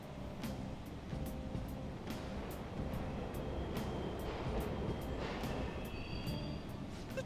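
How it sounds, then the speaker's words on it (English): Subway trains rumble along in Persona 5 Royal, a steady low mechanical roar with regular faint rhythmic clacks of wheels over rail joints and a thin metallic whine, with no voices. "The trains are totally running!"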